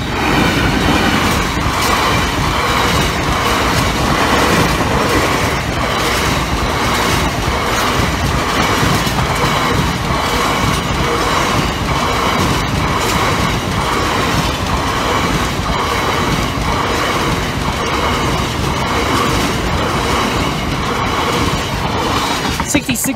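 A freight train rolls past a level crossing at Appleby, a loud, continuous rumble of wagons with rhythmic clickety-clack of wheels over rail joints and faint squeals, close by and steady for the whole stretch.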